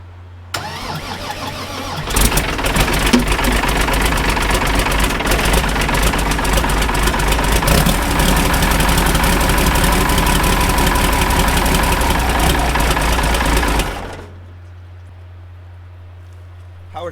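A Ford tractor fitted with a swapped turbo diesel engine cranks and fires for the first time, then runs in a loud, rough, steady clatter close by for about twelve seconds before shutting down to quiet.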